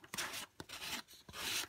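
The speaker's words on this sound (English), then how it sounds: "I recommend taking a sanding block" A sanding block rubs back and forth along the edge of an acetate card, three quick rasping strokes, close and quiet, with brief pauses between them.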